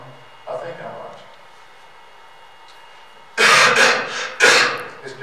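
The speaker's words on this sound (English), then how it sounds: "Excuse me if I'm coughing here." After a quiet stretch with a soft murmur, a person coughs loudly and harshly several times in close succession, very near.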